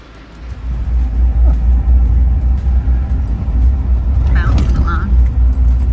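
A truck interior on a ride back from an automotive shop, with a loud steady engine rumble and road noise close by and light rattles as the vehicle bounces along.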